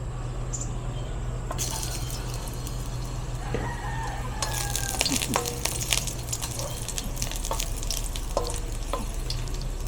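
Ginger sizzles steadily in a little cooking oil as ginataang eel is started in a rural kitchen, a constant frying hiss with a rooster crowing and clucking in the background.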